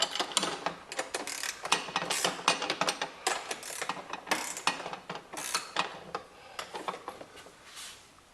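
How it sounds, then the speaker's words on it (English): Metal bolt being worked loose from the old blower casing of a John Deere lawn tractor, a steady run of close ratcheting clicks and mechanical rattles continuing for several seconds with no talk. "Just took the bolt out of the old casing."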